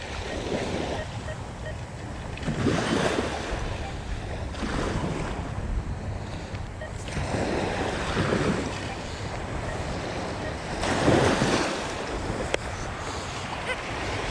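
Ocean waves crashing on a rocky beach, repeated surging washes every few seconds, close and loud with heavy wind buffeting the microphone.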